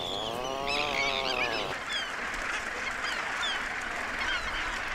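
Dense, raucous honking and harsh calls from many gannets packed onto a crowded rock nesting colony, a near and continuous clamor with harmonic cries at the start giving way to a broad wash of overlapping voices.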